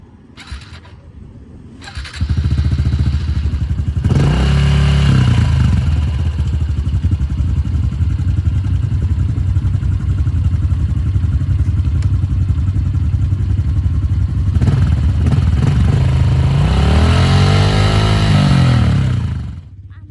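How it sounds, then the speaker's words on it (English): A kids' Honda CRF 110 motocross bike warms up at a West Yorkshire motocross park: the engine starts, settles into a steady, close, rattling idle and is blipped into a couple of brief revs. "I'm warming the engine up so then I can ride it."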